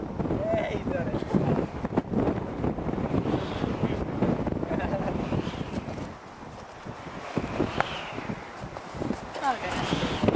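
Strong gusty wind roars across an outdoor field where a power kite is flown in high winds, buffeting steadily throughout while people talk and call out over it.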